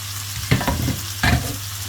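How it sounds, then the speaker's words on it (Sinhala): Seasoned winged beans with turmeric and salt hit a pan of frying onions, a steady close sizzle with two louder bursts as they go in and are stirred. "මම මේක දානවා මේ ලුණු බැදින උඩට"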